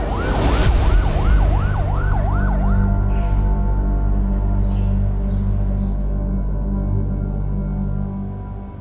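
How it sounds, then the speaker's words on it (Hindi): Ambulance siren wailing loud and close in a rapid rising and falling cycle for about three seconds, then cutting out and leaving a heavy engine rumble that fades slowly toward the end. "एम्बुलेंस को बुलाएं।"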